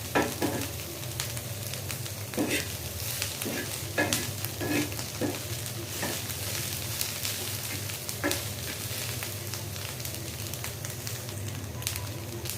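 Prawns fry in a pan and are stirred, giving a constant close sizzle broken by repeated scraping strokes of the spatula across the pan, with no speech.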